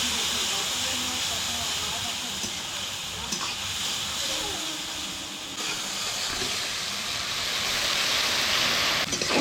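Ground spice paste and turmeric sizzling in hot oil in a wok while cooking a folui fish dish, a loud continuous frying hiss throughout, swelling slightly toward the end.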